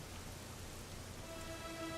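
Rain pours in the Dragon Quest 11 video game, an even, dense hiss that holds steady without pause or voices.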